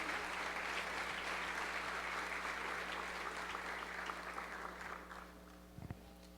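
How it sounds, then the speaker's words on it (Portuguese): Church congregation applauding together during a Portuguese-language service, a steady broadband wash of many hands clapping that holds evenly and then thins out toward the end, with a low hum running underneath. "Uma salva de palmas para esses amados irmãos."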